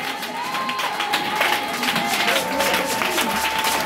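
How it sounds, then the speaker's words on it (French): A church congregation applauds and cheers steadily throughout, a dense continuous wash of clapping and crowd noise, with a sustained tone and some voices mixed in. "On va acclamer puissamment."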